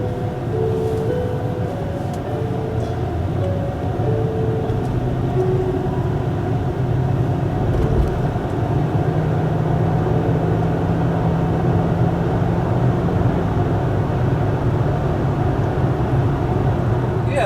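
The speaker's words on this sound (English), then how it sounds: "You guys get to take a daytime drive, passenger side view type of deal." Interior road noise from a 2006 Mercury Grand Marquis on a daytime drive heard from the passenger side, a steady low engine and tyre rumble with faint shifting tones throughout.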